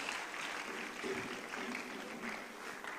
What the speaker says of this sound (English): clap your hands and thank God for that.